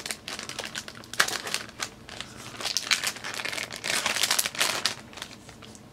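Crinkling plastic toy packaging rustles and crackles in irregular bursts, close and fairly loud, with no voices.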